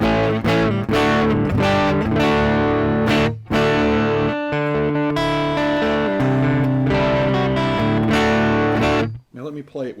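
Electric guitar on the neck pickup, driven through a JOYO overdrive pedal into a Strymon Iridium amp modeler, playing loud, sustained distorted chords and notes with a short pause midway, alone without talk.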